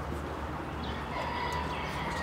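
Golden Sebright chickens at Bakhchisaray zoo in Crimea make short calls over a busy background of birds and murmur, a few brief clucks and a thin crowing note standing out in the middle.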